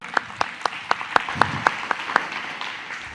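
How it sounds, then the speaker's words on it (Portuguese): A single pair of hands claps about nine times in a steady, evenly spaced rhythm at close range in a church gathering, then stops, leaving faint room noise. "uma salva de palmas para o Júnior"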